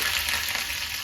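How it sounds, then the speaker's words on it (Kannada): Mustard seeds, green chilli and curry leaves sizzle in hot oil in a pan, a steady, loud, close hiss throughout with no talk. "ಇಲ್ಲಿ ಎಣ್ಣೆ ಬಿಸಿ ಆಗ್ತಾ ಇದೆ. ನಾವಿಲ್ಲಿ ಸ್ವಲ್ಪ ಸಾಸಿವೆ ಹಾಕೊಳ್ಳೋಣ."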